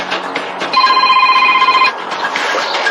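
Telephone ringing once, a sustained electronic ring lasting about a second, loud and close, with quieter indoor sounds before and after.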